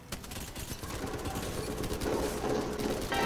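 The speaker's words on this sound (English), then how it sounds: "Straight gunfire." Sustained gunfire in the Apex Legends video game, a dense run of rapid shots and bursts layered together at steady, moderate loudness for a few seconds.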